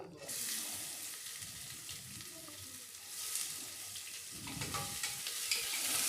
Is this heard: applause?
no